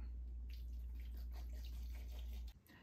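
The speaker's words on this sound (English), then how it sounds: "Add in 1/2 gallon of water to that." Half a gallon of water is poured into a bucket of peeled, seeded papayas for mead, making a steady, close splashing pour that runs for about two and a half seconds and then stops.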